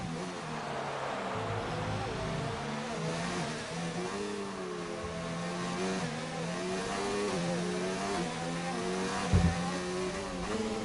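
Race car engines drone and rise in pitch as cars jostle and overtake in a sprint round of a racing video game set in Brazil. The sound is steady and mid-distance, with a brief bump near the end and a commentator's voice faintly underneath.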